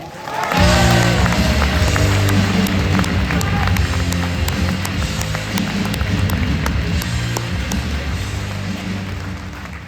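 A large audience applauds loudly and continuously, dense clapping with scattered cheers throughout, swelling at the start and holding steady, at the awards ceremony of the Gérardmer fantastic film festival.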